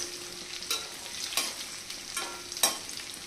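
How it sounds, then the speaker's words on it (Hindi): Gram flour dumplings frying in hot ghee give a low, steady sizzle, with a few louder crackling bursts as they are stirred or moved in the pan. No voices are heard. "गट्टा ने आपा 2-3 मिनट फ्राई कर निकाल लेवा बस"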